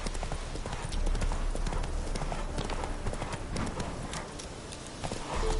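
Roach, the horse in The Witcher 3, trots along with a brisk, steady clip-clop of hooves, close and clear, over a low, continuous background.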